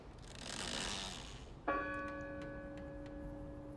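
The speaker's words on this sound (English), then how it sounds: "Maybe if I ring the bell." A bell struck once in the video game Draugen, a sharp clang that rings on with sustained tonal overtones after a soft whooshing build-up, faint and alone.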